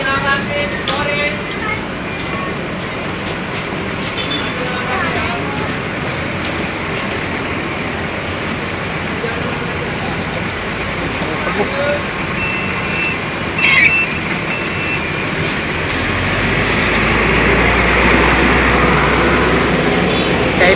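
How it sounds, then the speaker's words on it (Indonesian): A TransJakarta bus pulls into a busy bus stop at rush hour, its engine rumble swelling loud and close toward the end amid constant station noise. "tuh ada bus lagi tuh."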